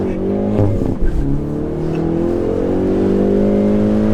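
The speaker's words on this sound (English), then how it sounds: "we're gonna try launch control this time with 4 dudes." A car engine, with four people aboard, revs hard and climbs steadily in pitch as it accelerates from a launch-control start at a proving ground, loud and close, with a brief thump early on.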